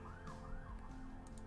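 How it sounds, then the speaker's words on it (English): Emergency vehicle siren passing near a house, its wailing tone rising and falling at moderate distance over a steady background hum, with no talking. "You might have heard a siren go by my house."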